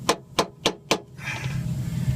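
Four evenly spaced, sharp metallic strikes as a hammer drives an old screwdriver to knock a stuck part loose on Sumo Springs suspension work, followed by a soft rustle.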